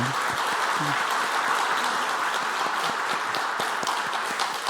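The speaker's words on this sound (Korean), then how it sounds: "우리 박수 한번 하겠습니다" A church congregation claps together during a Sunday service mission report, a steady, even wash of applause with a faint voice briefly underneath.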